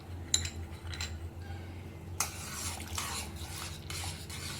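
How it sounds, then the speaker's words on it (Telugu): A spoon stirs thickening milk in a pot for mango ice cream, making soft rubbing swirls with a couple of sharp clinks against the metal over a low steady hum. "కార్న్ఫ్లోర్ మిక్స్ చేసే ముందు మళ్ళీ ఒకసారి స్పూన్తో అంతా మిక్స్ చేసుకోండి"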